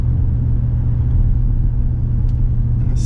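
A Maserati Levante Trofeo SUV accelerates in Corsa mode, a loud low engine rumble held steady for a few seconds inside the cabin.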